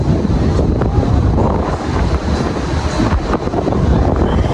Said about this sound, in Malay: Hujan dah turun, dia angin kencang.